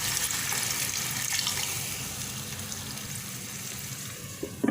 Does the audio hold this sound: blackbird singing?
no